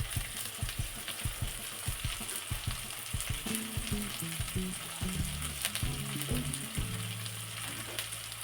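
Curry leaves frying in a pan of hot oil, a quiet, close crackling sizzle with irregular pops and bursts of spattering, and no voices.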